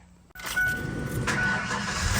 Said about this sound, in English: So if we start her up, let her run.